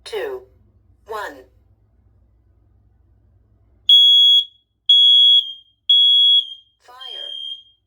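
A home smoke alarm sounds during a test: three loud, near, steady high-pitched beeps in an even rhythm, preceded by two short bursts of talk and followed by a brief spoken announcement.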